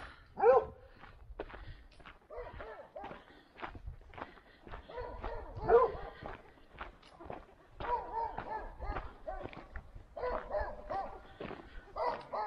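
A dog on a hiking trail in the Allier gorges barks and whimpers in an irregular run of yelps and whines, some close and loud, with footsteps and brief talk mixed in.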